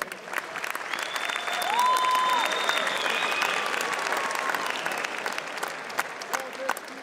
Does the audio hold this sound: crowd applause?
yes